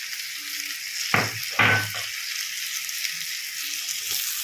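Pieces of boiled egg go into a pan of frying egg-carrot curry, a steady soft sizzle with two quick louder thumps as they drop in, then the gentle frying continues.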